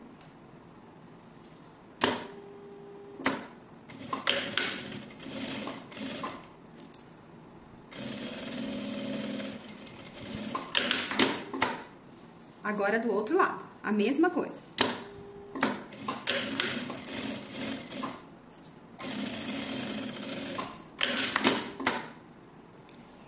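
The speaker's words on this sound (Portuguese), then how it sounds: "vamos passar uma costura pelo lado da manta mesmo, de um pé de máquina ou rente aos dentinhos do nosso zíper" Home sewing machine stitching a zipper onto padded fabric for a small DIY cosmetic case, heard in short bursts of rapid mechanical stitching with quiet pauses and someone talking between runs.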